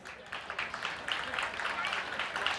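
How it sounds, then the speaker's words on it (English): Faint, steady applause from a fair crowd greets junior pageant contestants walking up front at a county fair, with voices murmuring underneath throughout. "Let's give these beautiful girls a round of applause as they come up"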